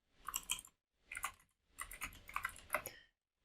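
Code being typed on a computer keyboard in three quick bursts of close, crisp key clicks separated by short silences, quiet and alone.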